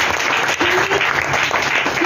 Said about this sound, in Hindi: उनके लिए एक जोरदार ताली बजाइए